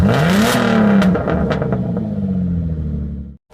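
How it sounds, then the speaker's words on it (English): A turbocharged Subaru WRX engine with a DC Sports intake revs up sharply, then winds down through a turbo whoosh and rumbling decay before going quiet, loud and close. "you should be able to hear the turbo a lot more now"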